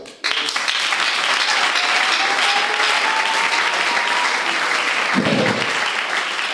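A church congregation breaks into sustained, loud applause that fills the space, steady throughout, with a voice or shout briefly rising near the end.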